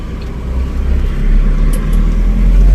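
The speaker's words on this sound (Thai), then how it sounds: "นี่เกียร์หนึ่งนะครับ ออกตัวง่ายออกตัวดี" A Toyota Mighty-X pickup truck pulling off in first gear, a close, loud, low engine rumble that builds steadily as the truck moves away, with no voices.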